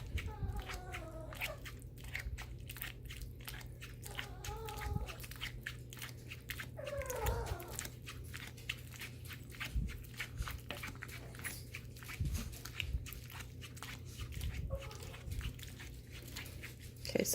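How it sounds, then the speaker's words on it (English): Repeated knife chops cut chicken breast on a cutting board at a quick, steady rhythm, with a dog whining faintly in the background. "So you just chop up your chicken breast."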